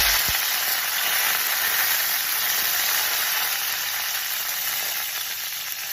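Garlic and curry leaves sizzle loudly in hot oil with mustard and cumin seeds while making carrot fry, a dense, steady close frying hiss throughout with no talk.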